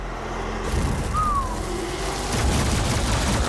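An explosion in the classic shooter DOOM, Phobos Lab level, bursts out as a heavy boom with rumbling low-end decay, alone and moderately loud.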